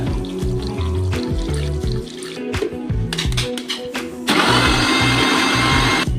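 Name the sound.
electric mixer blending mango juice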